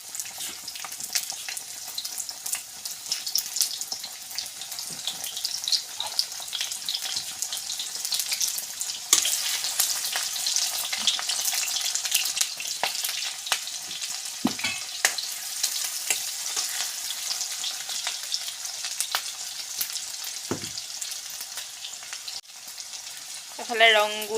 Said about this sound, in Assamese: ইফালে তেল পকোঁ পকোঁ হৈ আছে এতিয়া মাংসটো ভাজিব